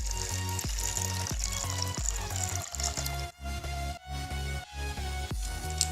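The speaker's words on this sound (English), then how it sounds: "what we are going to do is we are going first to put some warm water" Warm water pours into a plastic bottle for a homemade mosquito trap, a steady close splashing and gurgling stream with rhythmic glugs, heard alone without talk.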